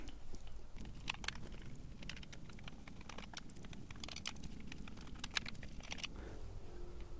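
A 3.5 mm Allen wrench turns out the screws on the control board cover of an Inmotion V14 electric unicycle, giving close, faint, irregular metallic clicks and ticks that continue throughout.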